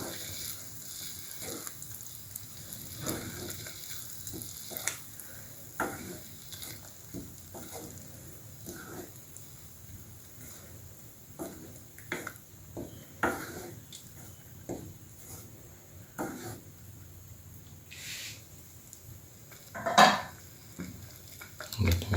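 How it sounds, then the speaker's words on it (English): Yogurt mixture stirred in a pan, with quiet scraping and irregular clinks of a utensil against metal, plus a few louder knocks, in a calm kitchen. "Mix the yogurt with the rest of the mixture."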